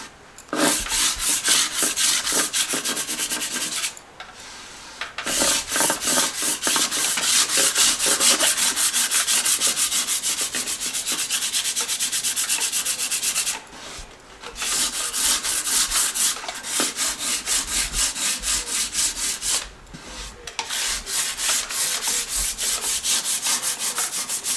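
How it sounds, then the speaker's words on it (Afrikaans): Bone inlay is sanded by hand with coarse 42-grit sandpaper, making a loud, close, continuous rasping scrub of rapid back-and-forth strokes that stops for brief pauses a few times. "ek skuur hom net so'n bietjie liggies, net om die meeste grofigheid af te kry"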